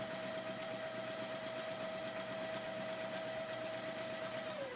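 A sewing machine stitches fabric along a drawn line with a quiet, even mechanical whir that holds steady throughout and slows briefly at the very end.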